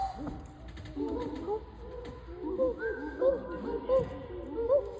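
A group of people vocally imitating a single owl hoot, several overlapping low hooting voices repeating in a loose rhythm against a murmuring indoor crowd.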